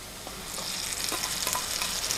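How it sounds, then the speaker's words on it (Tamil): Onions and chillies sizzling in a hot pan, with a spoon stirring and scraping now and then, close and fairly loud, no voices. "வெங்காயம் பச்சை மிளகாய் நல்லா பொன்னிறமாக வதங்கி வந்திருக்கு"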